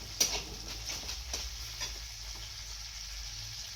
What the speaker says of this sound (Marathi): तेल टाकून घेतलंय, आता लसूण टाकते.